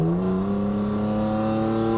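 An old BMW Touring with a roughly 150-horsepower six-cylinder engine accelerates with a steady, loud droning engine note whose pitch climbs slightly, heard close from inside the car.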